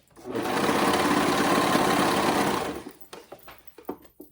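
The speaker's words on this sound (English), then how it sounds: "top stitching, leaving that 2-inch gap where I'm going to fit my elastic" Sewing machine running steadily for about two and a half seconds while top stitching around a dress seam to form an elastic casing, then stopping, followed by a few soft handling clicks and rustles of fabric.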